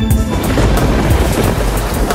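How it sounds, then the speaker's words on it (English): Distant thunder rolls as a low, continuous rumble through a hot approach hike to a first-ascent wall climb on Tioman, with a steady hiss like rain or surf layered over it and no talking. "That thunder sounds scary."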